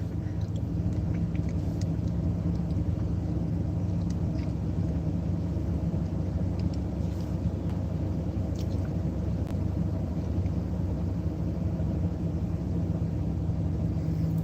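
Steady low road rumble inside a regular pickup truck while driving, a constant even drone with no voices.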